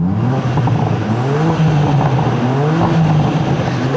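A new BMW M3/M4 engine revs loudly and steadily with its exhaust in loud mode, a deep, rumbling note, the pitch rising and falling slightly as the throttle is held, close by.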